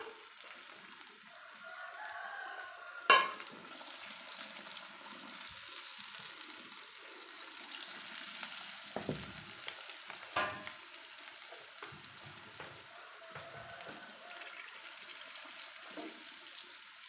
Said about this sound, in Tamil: நம்ம வடையை சுட்டு எடுத்துடலாம்.